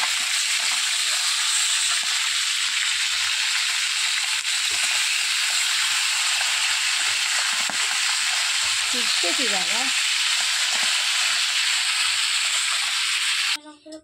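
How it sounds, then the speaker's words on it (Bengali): Fish fry in oil in a broad, steady sizzle that runs on loudly, with faint voice-like murmurs underneath, then cuts off near the end. "মাছগুলো পুরো ভেজে নিয়েছি সুন্দর লাল লাল করে"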